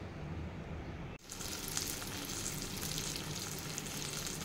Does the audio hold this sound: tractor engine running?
no